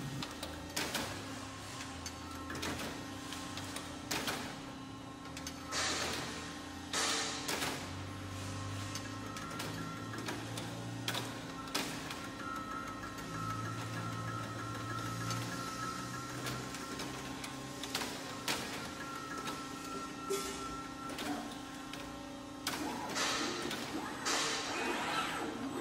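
A robotic make-and-break system torques a riser bolt, giving a steady mechanical hum under repeated ticks, clicks and occasional thuds from the tool and reaction arm, moderately close.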